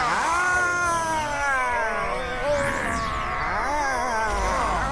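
An animated cartoon cat meows in a drawn-out, wavering caterwaul, loud and close, with several rising and falling cries running together.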